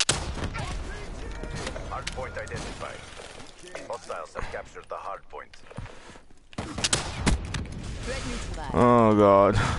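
Grenade launcher and other gunfire in a Combine Hardpoint video game match, a rapid burst of sharp shots and mechanical clatter running almost the whole time, loud and close, with a loud mechanical whirring near the end.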